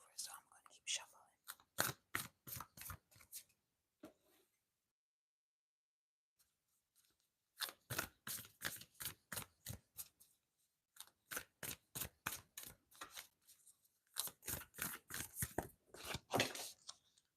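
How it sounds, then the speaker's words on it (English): Soft rapid riffling of tarot cards in bursts, quick crisp flutters separated by short pauses, close and quiet. "so I'm going to keep shuffling."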